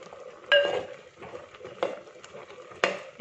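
A metal spoon scrapes and clinks against a pot while stirring kurukku kalan, a thick Kerala yogurt-and-coconut curry, with three distinct ringing knocks spaced about a second apart over soft scraping.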